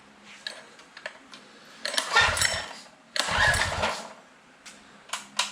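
A small minibike engine, previously seized, is cranked with a few short mechanical clicks, then sputters to life in two loud bursts of revving, close by.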